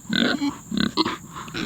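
Seven-month-old Idaho pasture pigs grunt close by, several short, throaty grunts and snorts coming in quick bursts with brief pauses between.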